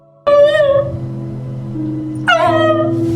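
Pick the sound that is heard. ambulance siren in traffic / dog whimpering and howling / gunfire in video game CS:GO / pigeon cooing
dog whimpering and howling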